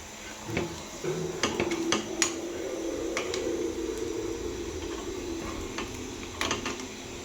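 Appe are turned one by one in a metal appe pan, making a series of sharp metallic clicks and taps over a soft, steady sizzle, close and moderately quiet, with no talking.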